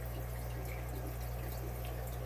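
Water pours steadily from the outflow of a Seachem Tidal hang-on-back aquarium filter, a constant close-up rushing and trickling with no talking.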